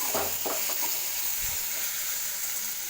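Ginger garlic paste sautéing in oil for mutton fried rice, a constant close sizzle with a few soft stirring scrapes near the start, no voices.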